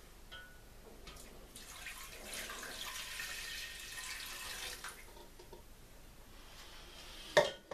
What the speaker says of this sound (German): gießen das Ganze dann auf mit 3/4 Liter kaltem Wasser